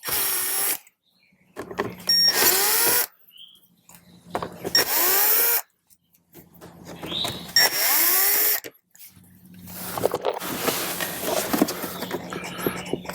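Cordless power drill running in four separate bursts as screws come out across the top of a 2018-up Jeep Wrangler JL dashboard, each burst loud and close with a whine that rises and falls, with short pauses between them.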